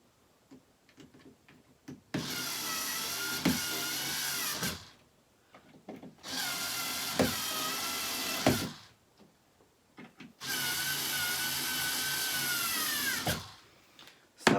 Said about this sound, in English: So what I have to do now is tighten these screws.